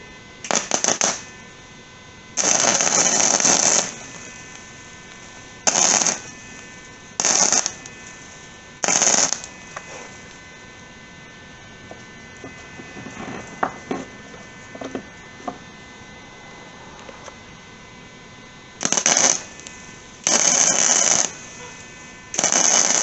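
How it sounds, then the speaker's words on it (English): An arc welder lays a big blob of weld onto a broken tool in crackling, buzzing bursts of a few seconds each, separated by quieter gaps with a low electrical hum and small clicks. "let me get the welder fired up"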